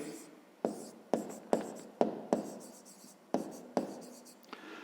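Numbers written by hand for a fifth-grade math exercise: a close, steady run of about eight sharp pen strokes, each starting with a crisp tap and trailing into brief scratching, with no talk.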